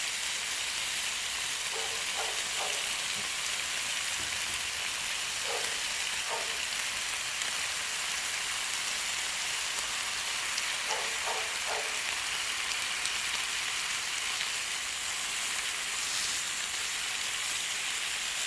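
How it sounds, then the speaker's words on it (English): Bacon fries on a Blackstone griddle, filling the clip with a loud, steady crackling sizzle that never lets up, with a few faint tonal bleeps in the background and nobody speaking. "There's something about doing bacon on the Blackstone that is just totally amazing."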